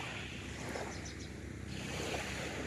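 Sea waves breaking at a beach near a cottage area, a steady broadband wash of surf with some wind buffeting the microphone, continuous and fairly loud with no voices.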